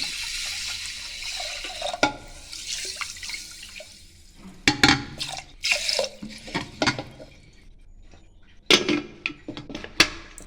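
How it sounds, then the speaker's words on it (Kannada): A glass of water splashes and pours in short bursts onto washed horse gram, with drips and sloshing between pauses, close and fairly loud. "ಕಾಳು ತೊಳೆದಾದ್ಮೇಲೆ ಮತ್ತೆ ಅದಕ್ಕೊಂದು ಗ್ಲಾಸ್ ನೀರು ಹಾಕೊತಾ ಇದ್ದೀನಿ"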